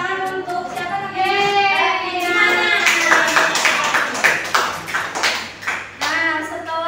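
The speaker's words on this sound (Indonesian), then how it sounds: "Oke, beri tepuk tangan untuk siapa namanya?" Students clap in a fourth-grade classroom during a peer-teaching science lesson, a busy patter of hand claps that swells mid-way, with voices and chatter running underneath and around it.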